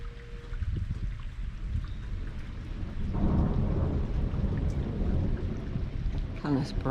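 Heavy rain pours steadily in a foggy rainstorm with sporadic lightning, while a deep thunder rumble swells and rolls from about the middle onward, loud and sustained, with a brief voice-like sound near the end.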